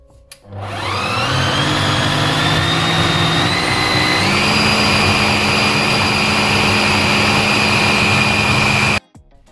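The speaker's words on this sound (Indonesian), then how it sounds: "Kemudian kita blender lagi. Blender beberapa kali supaya kenyal dan halus." An electric blender whirs loudly and steadily, blending fish paste mixed with betel lime for otak-otak. The motor spins up, settles into a continuous high whine that shifts pitch partway through, then cuts off abruptly.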